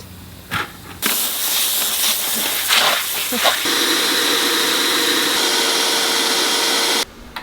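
A paint spray gun is being cleaned out between coats of kitchen cabinet paint, giving a loud, steady hiss of blowing air that runs for about six seconds after a few short bursts, then cuts off abruptly.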